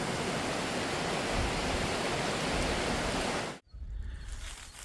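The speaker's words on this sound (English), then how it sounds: "It is pouring." Heavy rain pours steadily outside an off-grid pallet cabin, a dense, loud, hissing roar that cuts off abruptly near the end, leaving a quieter background.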